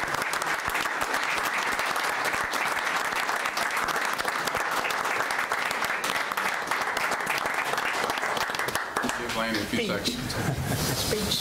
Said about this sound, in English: So if we could just give him a round of applause.